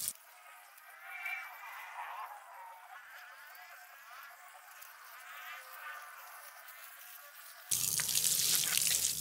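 Water runs steadily for several seconds while watering water spinach plants, a soft hiss with gurgling, then surges louder and harsher near the end as the flow hits something.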